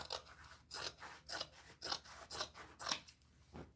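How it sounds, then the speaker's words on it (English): Scissors cut through the legs of thrifted denim jeans in a series of about eight crisp, close snips at a regular rhythm, each a short crunchy slice, with no voices. "I just want to cut each leg off, and then I am just going to cut them open"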